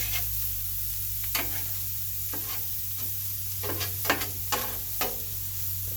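A sloppy joe quesadilla sizzles on a 22-inch Blackstone griddle as a metal spatula scrapes and flips it. A steady frying hiss runs underneath a handful of sharp, close scraping strokes.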